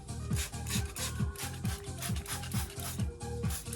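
A soft-bristled brush scrubs the engine bay of a Ford Escort Cosworth in quick, regular back-and-forth strokes, a close, rhythmic rubbing and swishing with no talk.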